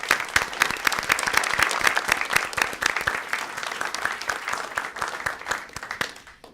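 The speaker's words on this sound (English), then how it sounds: "I would like to give them a round of applause for what they do." Loud, dense applause from an audience at a NASA program honoring Department of Energy representatives, sustained for several seconds before tapering off at the end.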